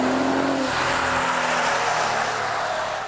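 A twin-turbocharged 2017 Cadillac CTS-V Sport engine producing 420 horsepower roars loudly and continuously, holding a steady high-revving drone with no one talking over it.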